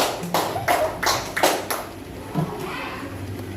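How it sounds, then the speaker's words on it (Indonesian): Children in a school classroom clap for a group, a short run of brisk claps that fades out, with faint voices in the room. "Tepuk tangan dulu untuk kelompoknya."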